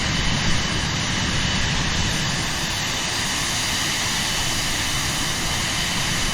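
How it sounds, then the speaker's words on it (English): Loud, continuous roar of a big jet's engines in Microsoft Flight Simulator, a steady broadband drone that never lets up, with no talking. "The jet engines are really loud."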